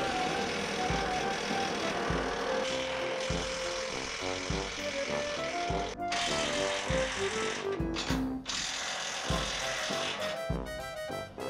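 Power tool spinning rusted bolts on a trailer suspension, repeated bursts of whirring and rattling with short pauses between them, close up and moderately loud.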